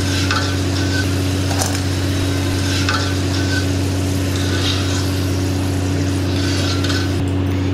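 Potato snacks (aloo fry) frying in oil in a pan, with a steady loud sizzle over a constant low hum and occasional scrapes of stirring; no talk.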